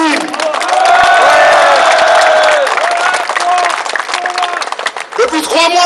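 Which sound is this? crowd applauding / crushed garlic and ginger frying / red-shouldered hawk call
crowd applauding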